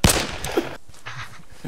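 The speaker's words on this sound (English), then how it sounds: "I hear that gunshots." Gunfire in the Arma 3 video game: a sharp, fairly loud burst at the start, followed by rumbling echoes and a few softer distant shots across under two seconds.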